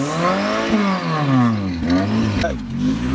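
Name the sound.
car engine revving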